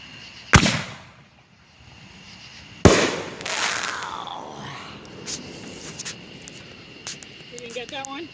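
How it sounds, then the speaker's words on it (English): July 4th fireworks bursting: two loud, close explosions a couple of seconds apart, each followed by crackling and fading whistles, with smaller scattered pops and whistling toward the end. "these are real fireworks."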